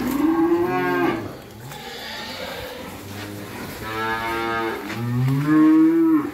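Cattle mooing loudly at a cattle farm in Vinh Long, Vietnam, with two long, drawn-out bellowing calls separated by a quieter pause, close to the listener.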